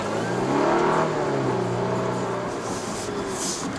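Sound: Volvo S60 car engine while cornering

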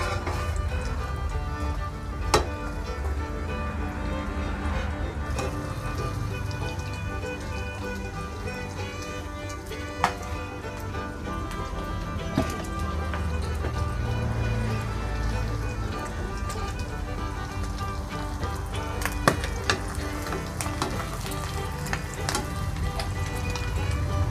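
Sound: omelette with fermented pork (nham) frying in a pan

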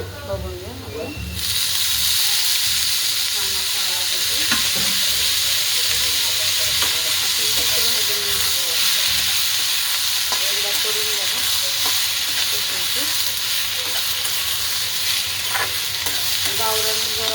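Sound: cluster beans frying in oil

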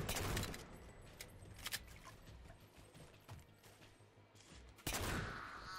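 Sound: gunfire in Halo 4 video game

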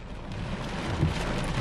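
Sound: rain falling

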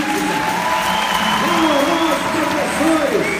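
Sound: applause for the teachers at an opening ceremony

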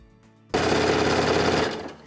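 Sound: sewing machine stitching a tote bag lining

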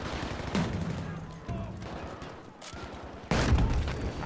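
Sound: grenade launcher fire in Battlefield 2042 video game

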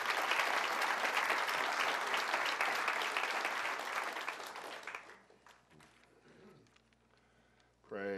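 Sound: audience applauding

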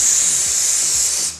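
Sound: spraying hairspray on hair

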